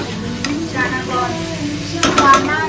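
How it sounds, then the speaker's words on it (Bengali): Palm fritters (taler bora) frying in hot oil, giving a loud, continuous sizzle with occasional stirring scrapes and a brief clatter near the end. "এখন এই যে তালের বড়া ভাজছি"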